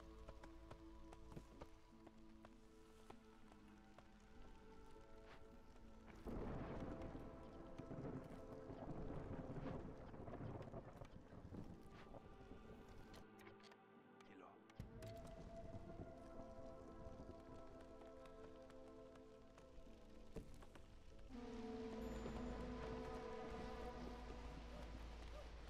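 Steady rainfall in the fantasy city-builder game Against The Storm, a soft continuous patter of drops with occasional brief gaps, mixed under game music and interface tones.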